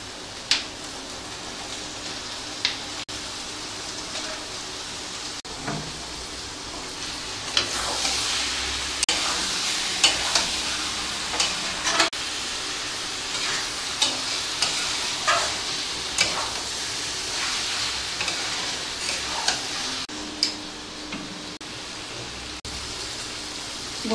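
Boiled mutton lungs crackle and sizzle in a pan of spice masala, with a steady frying hiss and occasional sharp clicks of a spoon stirring against the pan.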